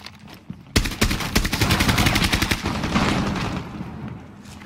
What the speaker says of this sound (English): Oh no, I'm getting shot!